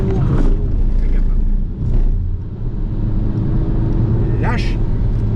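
A Porsche engine on the Mettet race circuit drones steadily close by, its revs swelling and easing as the throttle is fed and released, under continuous coaching talk.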